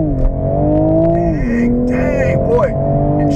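A 2021 Toyota GR Supra engine revving hard and climbing in pitch, with a brief drop as it shifts gear before 6,000 RPM, then pulling up again, heard from inside or close by.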